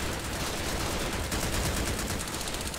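Continuous, dense gunfire from a gang battle in Yakuza: Like a Dragon, a loud wall of rapid shots and noise running through the whole stretch with no clear gaps.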